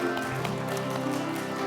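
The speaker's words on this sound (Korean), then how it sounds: "서로 박수로 축복하겠습니다" A Korean Presbyterian church congregation at a Wednesday Bible service applauds briefly, a soft patter of clapping hands set against sustained background music, fairly quiet and even.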